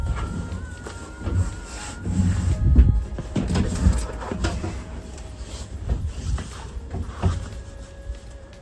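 A swivel seat base being turned in a Sprinter camper van conversion, with close, intermittent mechanical scraping and clunking as the seat pivots, and no talking.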